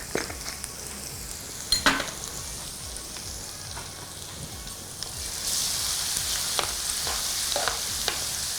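A tempering of spices and asafoetida powder crackles in hot oil for egg avakaya pickle, with a continuous sizzle, scattered pops and stirring clicks that grow louder and brighter partway through.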